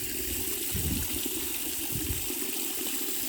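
Water pours steadily for chickens on a snowy, frozen farm, a continuous close gushing and splashing with no talk.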